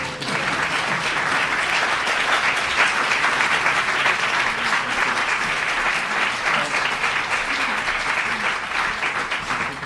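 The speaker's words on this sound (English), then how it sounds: "this is when you clap" Sustained, dense applause from a large audience at an academic prize ceremony fills the clip, an even, loud wash of many hands clapping with no voices on top.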